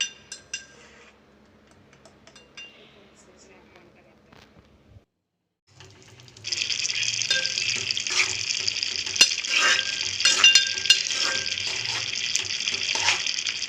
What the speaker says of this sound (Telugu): ఆ టమాటా రసం కొంచెం ఒక 3 మినిట్స్ మగ్గనిద్దాము